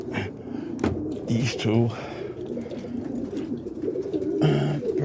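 Pet cock birds coo near their coop, throaty pulsing calls rising and falling at close range while someone talks over them.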